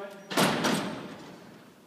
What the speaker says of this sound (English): Let's shut these doors